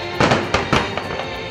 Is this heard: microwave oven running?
no